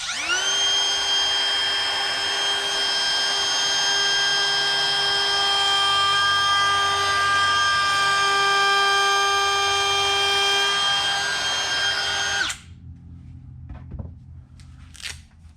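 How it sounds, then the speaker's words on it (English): A wood router fitted with a two-step bit cuts a coved edge along a wooden sign, giving a loud, steady high-pitched whine for about twelve seconds before it cuts off, followed by faint handling noises. "I'm going to use a 2-step router bit to do that"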